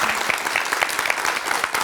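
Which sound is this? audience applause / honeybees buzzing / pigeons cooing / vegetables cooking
audience applause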